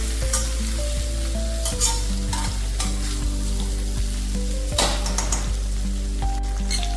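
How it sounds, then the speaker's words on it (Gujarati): Stuffed okra sizzles and fries in a spiced pan while being stirred continuously, a steady crackling hiss broken by soft scraping strokes of the spoon, close and unbroken. "અને ભીંડો છે તો એ આપણે કન્ટિન્યુઅસલી ચલાવતા રહેવાનું છે"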